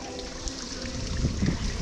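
Water trickles faintly on a monsoon hillside near Panvel, a soft, steady dribbling under low background noise.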